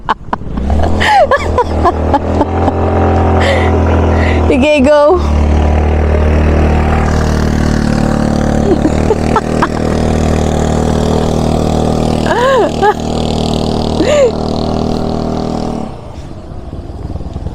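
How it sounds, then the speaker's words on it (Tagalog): A motorcycle engine strains up a steep road in Tanay, a continuous, laboring drone that holds steady for most of the stretch before dropping away near the end. Riders speak briefly over the engine. "Hindi kaya ng motor."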